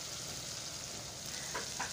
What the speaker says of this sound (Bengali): তো সবজিটা চিকেনটা নাড়াচাড়া দিয়ে দিই।